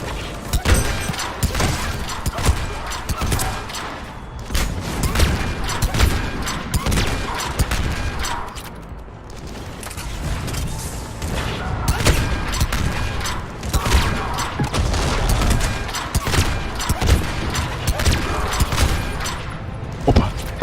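Dense, sustained gunfire fills a video game firefight, rapid bursts and booming impacts layered continuously and loudly with no pauses, consistent with a mounted machine gun firing.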